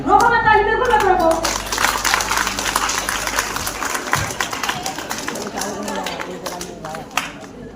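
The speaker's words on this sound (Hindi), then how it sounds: "रोको मत ताली, बिल्कुल मत रोको।" An audience claps steadily at a school farewell party, a dense patter of many hands with cheering and shouts over it, a voice speaking briefly at the start.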